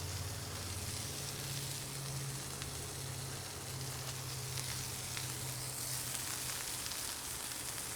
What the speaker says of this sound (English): That butter's already smoking.